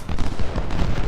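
Massed musket volley from Civil War infantry in Ultimate General: Civil War, a dense rolling crackle of many shots blending into a continuous roar for about a second.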